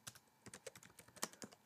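Quick, uneven keystrokes on a computer keyboard entering a search, a short burst of about a dozen crisp, faint taps close by with no talking.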